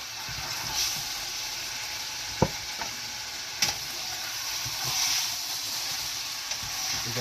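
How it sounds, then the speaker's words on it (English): Beef pieces sear in a hot pan for a bourguignon, a steady broadband sizzle close by with a few sharp clicks of a utensil stirring and scraping the meat, no voices. "We want to make sure we get a nice brown sear all the way around on all of our pieces of meat."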